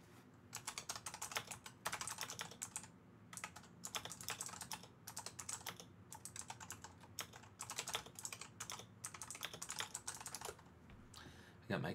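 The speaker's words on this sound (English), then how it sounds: "I got my clicky-clacky keyboard." Rapid typing on a clicky mechanical computer keyboard, dense bursts of sharp close key clacks with brief pauses between runs, fairly quiet and continuous throughout.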